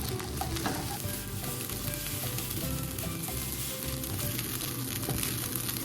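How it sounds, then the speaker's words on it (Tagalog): Rice tinted with turmeric powder is stirred in a hot pan, giving a steady close sizzle and frying crackle with scraping of the spoon throughout, no voices. "Haluin lang natin to hanggang ma-mix natin lahat yung ating nilagay na turmeric powder"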